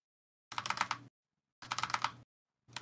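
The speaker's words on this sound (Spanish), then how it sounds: "¿Cómo se escucha ese teclado, amigo?" A computer keyboard clatters in short, rapid bursts of keystrokes, two clear groups of quick taps separated by silence and a third starting, close and crisp.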